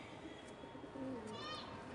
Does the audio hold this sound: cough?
no